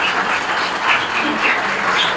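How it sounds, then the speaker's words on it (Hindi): An audience at a tribute gathering honouring Allama Ilyas Sattar applauds in a continuous, even roar of many hands clapping together, sustained and fairly loud throughout. "आपकी तालियां जो है वो इस बात का सबूत करेंगी कि आप कितने खुश हुए हैं"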